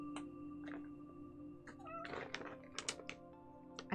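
A pet cat named Duncan gives several short, close meows over a low steady hum, with faint clicks of keys mixed in between.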